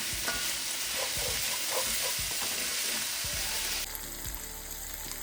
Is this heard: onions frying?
yes